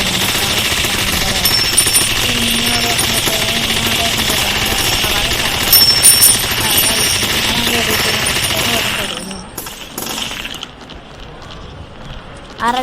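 Rapid automatic gunfire from a craft-style video game rattles loudly and continuously with dense mechanical noise, then drops off abruptly near the end, leaving quieter scattered sounds.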